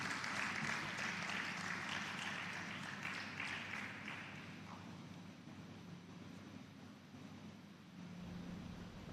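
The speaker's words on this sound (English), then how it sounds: "A round of applause for her." Faint applause from an audience at a finance forum in Nigeria as a minister is welcomed to give an opening address, clapping that fades out after a few seconds into quiet room noise.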